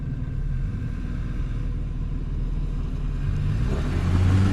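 A Toyota Land Cruiser driving off-road in sand mode, engine rumbling steadily and building to a louder revving surge near the end as the wheels spin.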